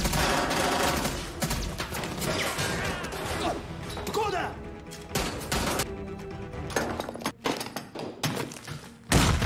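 A gunfight in a Korean film's tunnel escape scene, with rapid bursts of gunfire, thuds and crashes packed densely together, loud and close, mixed with other action noise.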